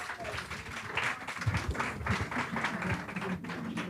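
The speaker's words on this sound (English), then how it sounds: "Let's give a round of applause." Audience applause at a community gathering of activists, a steady wash of clapping lasting throughout, moderately loud with some voices mixed in.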